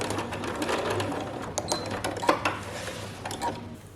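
Sewing machine running steadily along a seam on a Solstice dress, with brief pauses and clicks as it stops to back-tack at the seam's end; close and continuous, with no talking.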